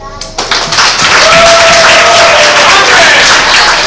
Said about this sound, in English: let's have a round of applause for a beautiful couple